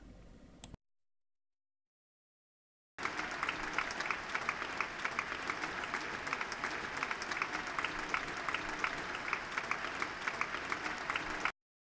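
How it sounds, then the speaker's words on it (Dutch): Studio audience applauding on a TV show: a brief noisy burst, a gap of silence, then dense, even clapping for about eight seconds that cuts off abruptly. "Een applaus voor Gerda."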